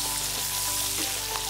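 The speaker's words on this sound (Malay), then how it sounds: "Goreng ikan bilis yang kita dah basuh dan toskan, anggaran 400 gram." Washed and drained anchovies, about 400 grams, frying in hot oil: a steady, close crackling sizzle with small bursts of popping bubbles.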